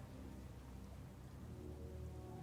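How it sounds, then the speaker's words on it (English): Rain from an approaching storm in the Leisure Suit Larry video game hisses as a steady, dense, faint wash with a low rumble beneath. "I have a feeling that the storm is getting closer by the second."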